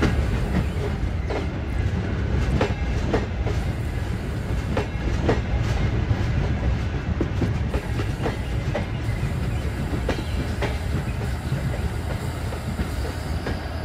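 The 12202 Garib Rath Express runs in Train Simulator Classic, giving a steady, dense rolling rumble with regular rail clicks recurring throughout and no talk.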